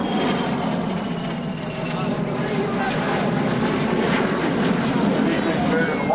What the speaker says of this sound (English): the United States Air Force's very own B-2 Spirit, flew in